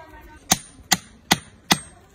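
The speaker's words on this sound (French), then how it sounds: "C'est un peu dur à envoyer au fond de la terre. Faut un marteau là." A recycled plastic garden stake is hammered into soil, four sharp knocks at an even pace about 0.4 seconds apart, close by and clear with no talk.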